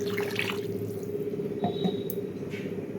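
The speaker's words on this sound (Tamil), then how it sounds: "எனக்கு தேவையான அளவுக்கு நான் தண்ணி மிக்ஸ் பண்ணுறேன்" Water poured and mixed into a village-style urundai kuzhambu curry, a soft continuous trickle with light splashing and a few drips, heard close over a steady low hum.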